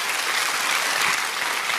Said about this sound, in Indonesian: Coba yang berpengharapan beri tepuk tangan buat dia.